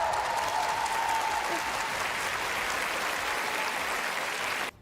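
A stadium crowd breaks into thunderous applause at the end of the national anthem during a Ukraine fundraising event, broad continuous clapping that fills the space at an even level and then cuts off abruptly at the end.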